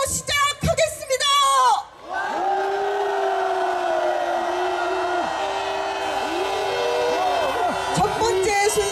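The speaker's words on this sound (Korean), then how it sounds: "여러분들의 힘찬 함성으로 시작하겠습니다" A rally crowd at a Korean mass candlelight protest roars in a long, sustained loud cheer with whoops and shouts, after a few brief opening calls.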